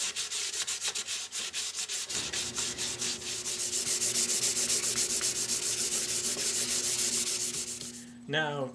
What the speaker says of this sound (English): I'm going to get some sandpaper and a little scrap of the same mahogany the body is built out of, and going to make a little pile of really fine sawdust